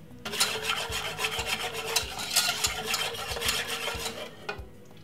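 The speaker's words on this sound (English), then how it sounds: "Simple, give it a little stir like this." A spoon stirs melted chocolate in a cup of hot chocolate, making close, steady scraping and rubbing strokes in a quick repeating rhythm.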